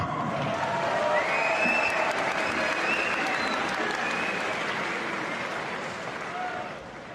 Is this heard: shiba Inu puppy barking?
no